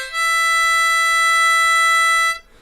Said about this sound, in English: you're going to pucker up and blow into just one hole